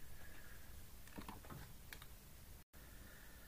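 Computer keyboard typing, with a cluster of light key presses around the middle against a steady background hiss, close and quiet, no speech.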